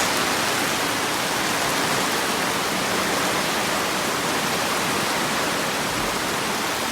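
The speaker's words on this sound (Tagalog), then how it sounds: "Ang lakas ng ulan sa labas." Heavy rain pours outside on a farm, a dense, even roar of falling water that fills the whole stretch without pause, loud and steady with no voices.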